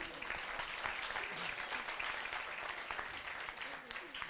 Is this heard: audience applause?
yes